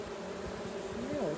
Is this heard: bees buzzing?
yes